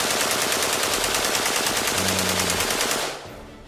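An AK-47 assault rifle firing a long, continuous automatic burst, rapid and evenly spaced loud shots that last about three seconds before cutting off, leaving a fading tail.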